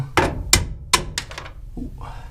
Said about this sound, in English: And I got my trusty hammer.